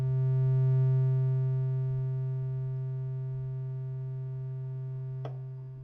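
A single synthesizer note with a fast attack swells up quickly, eases down and then settles into a steady sustained buzzy tone, with one faint click near the end.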